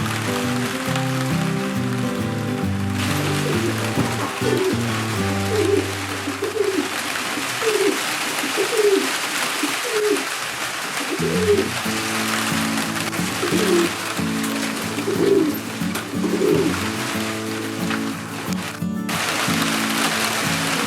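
Jansen racing pigeons, males in a loft, cooing in repeated soft throaty bursts across the whole stretch, with a light patter like rain in the background and no talk.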